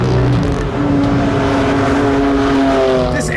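A BMW M4 GTS engine roars loudly and close by, revving upward in a sustained, rising pull with a hard mechanical edge.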